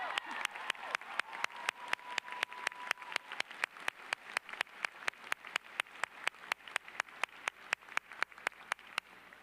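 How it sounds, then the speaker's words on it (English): At a college commencement ceremony, sharp claps land in an even, rhythmic beat about four times a second, crisp and close over a faint crowd background. "how about one more round of applause for Kim Janey?"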